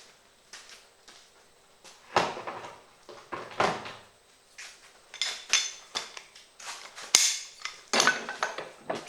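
Someone rummaging through a toolbox or drawer in a workshop for a deep socket, with a series of sharp metallic clanks, rattles and clatters in irregular bursts, close and fairly loud.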